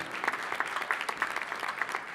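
Audience at the opening night of the Vues d'Afrique international festival applauds warmly for an arriving soprano, a steady, fairly quiet patter of many hands with no voices over it.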